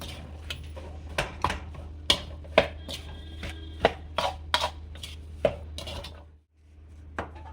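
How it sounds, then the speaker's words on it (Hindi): Besan laddu mixture stirred in a pan, heard as a steady series of sharp scraping knocks of spoon on metal, close and fairly crisp, roughly one or two per second with a brief pause near the end. "इसमें सारा अच्छे से मिला देती हूँ"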